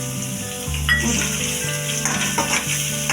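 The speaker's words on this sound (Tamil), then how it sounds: "வெங்காயத்தோடைய அரைச்சி வச்சிருக்கிற நம்ம பேஸ்ட்டு ஊற்றிக்கணும்." Ground onion paste frying in a pan for cauliflower fried rice, a loud continuous sizzle with a burst as it hits the oil and occasional utensil clinks.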